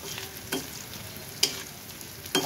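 Sliced onions frying in a pan with a little salt and sugar, a steady soft sizzle broken by a few sharp clinks and scrapes of a stirring spoon.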